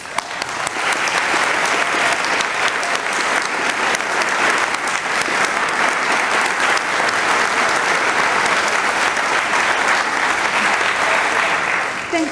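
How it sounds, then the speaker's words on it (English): Sustained applause from a standing audience at a 2016 campaign launch program honoring nursing students, a loud, dense, even wash of clapping lasting throughout without a break. "for a round of applause"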